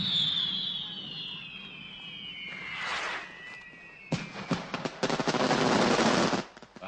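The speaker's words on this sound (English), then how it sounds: "Fireworks. Explosives." Fireworks and explosives going off at a night celebration in a film: a descending whistle, then dense, loud crackling bursts and rapid pops that fade out at the end.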